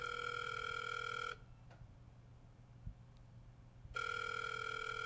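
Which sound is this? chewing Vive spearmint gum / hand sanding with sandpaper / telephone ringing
telephone ringing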